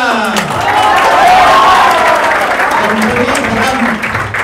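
A lecture audience claps during a Hindi-language law class for CA Foundation students, a dense, steady wash of applause lasting several seconds, with voices mixed in over it.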